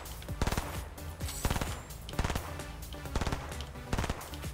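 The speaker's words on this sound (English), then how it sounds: "I see the gunshot from there" Rapid bursts of gunfire in the Fortnite video game, dense overlapping shots and short automatic volleys, loud and sharp, repeating in clusters over a busy background.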